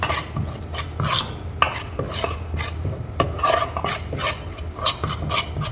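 Cheela fish pieces being mixed by hand with spice masala and oil in a bowl, a close, continuous wet rubbing and squishing with repeated scraping strokes against the bowl.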